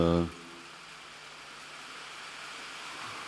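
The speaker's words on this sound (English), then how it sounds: "that's the rain, not the loudspeakers" Steady rain falls outdoors as a broad, even hiss that follows a brief moment of speech, continuing faintly and unbroken to the end.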